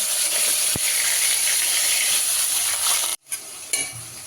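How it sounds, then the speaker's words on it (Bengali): Potatoes and green chillies hiss and sizzle loudly in hot oil in a wok, with a metallic clink and a brief pause as they are stirred. "এবার কড়াইয়ের মধ্যে কাঁচা লঙ্কা আর আলুটা একটু ভেজে নিতে হবে।"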